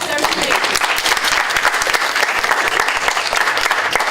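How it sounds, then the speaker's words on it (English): Vigorous audience applause at an academic welcome assembly, a thick burst of many hands clapping with sharp individual claps audible, some voices chattering underneath throughout. "Clap for that."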